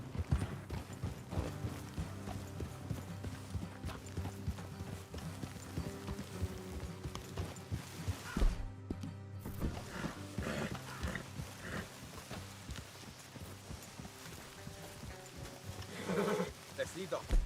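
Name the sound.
horses' hooves from video game Red Dead Redemption 2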